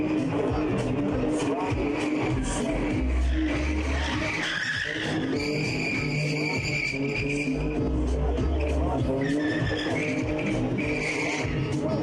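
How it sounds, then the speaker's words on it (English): A stripped-down car with no radio or luxuries spins, its engine revving loud and tires squealing in long, sustained screeches close by, with the engine note rising and falling through the spin. "I love the sound of my car. I love the engine."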